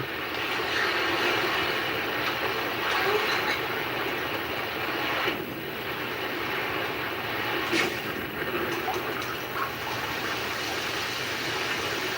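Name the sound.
imitation of a locomotive engine sound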